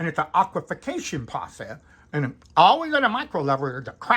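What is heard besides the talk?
No distinct noise like a dog, phone or traffic.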